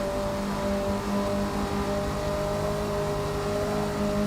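A race car engine in Forza Motorsport 6 holds a steady, loud drone with a light raspy flutter and faint whir running throughout, with no voices.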